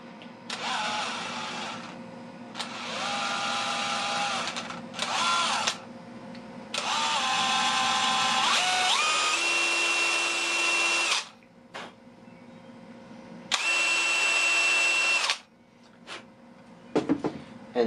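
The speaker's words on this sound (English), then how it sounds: "there's one important thing to do is drill a hole right here at the top" A power drill whirs in several bursts separated by short pauses, its pitch rising and falling as it bores through wood.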